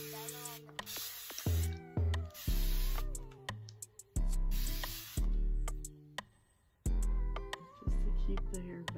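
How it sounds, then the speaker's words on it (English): A spray bottle of hair product misted onto a deep wave lace front wig during install, sharp hissing bursts repeated several times with clicks and handling noise between them. "So I'm just going to spray this."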